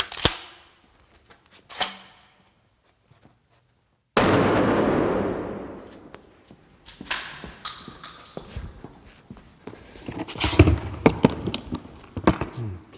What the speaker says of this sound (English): we're gonna see what Officer Branch can do with his 12-gauge shotgun